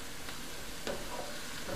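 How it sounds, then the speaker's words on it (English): Chicken thighs with mushroom duxelle being stirred in a pan, giving a soft, steady sizzle with a few faint scraping touches of the utensil, fairly quiet and without voices. "Give it another good stir."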